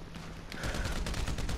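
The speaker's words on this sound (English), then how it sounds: "Yeah, don't ask me, he's just shooting at us" Gunfire rattles in Grand Theft Auto V, a short burst of fairly faint rapid shots that picks up after a quiet opening moment.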